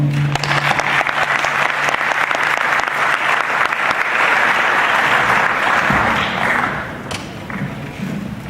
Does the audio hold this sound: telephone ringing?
no